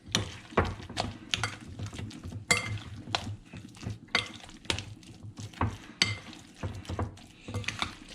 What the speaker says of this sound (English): I'm gonna combine all of this, making sure everything is in that ground turkey.